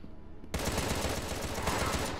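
Rapid, sustained automatic gunfire from shooting in the video game Contra Rogue Corps bursts in abruptly after a brief quiet moment and continues loud and dense until the end, with no talking.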